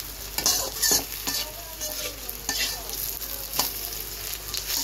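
Pointed gourd (potol) frying in a pan and being stirred, with a steady hiss of sizzling oil broken by repeated scraping strokes of a spatula, close and moderately loud, with no talk.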